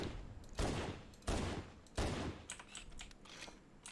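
Pistol shots in the game Halo: Combat Evolved, fired in a quick series of sharp broadband cracks with loud bursts followed by fainter, rapid reports, with no talking.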